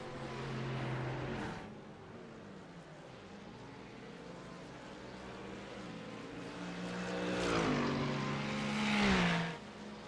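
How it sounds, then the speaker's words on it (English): GT race cars in a sim racing game drone past with engine tones sweeping up and down, one car swelling loudly near the end before fading under a steady broadband roar. "Oh, I love the sound of those cars."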